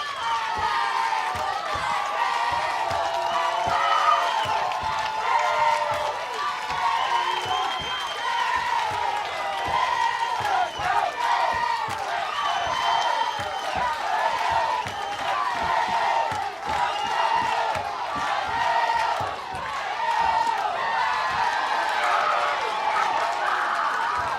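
Softball stadium crowd rising to its feet and cheering loudly and continuously, dense roaring voices and shouts sustained throughout.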